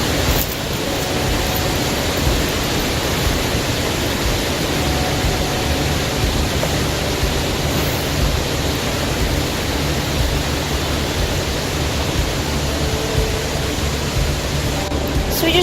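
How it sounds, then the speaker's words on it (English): Waterfall at White Oak Canyon in Shenandoah National Park, a loud, constant broadband roar of rushing water filling the whole stretch without letup. "Waterfalls."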